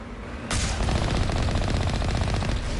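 Alliance heavy turret in the video game Mass Effect firing a loud, rapid, steady stream of shots that starts abruptly and keeps going without pause.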